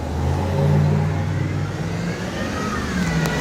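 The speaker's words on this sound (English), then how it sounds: "They got enough loud cars here?" Loud car engines rev and whir past on a busy street, a continuous rumbling drone of several vehicles swelling and fading, close and heavy, with no talk.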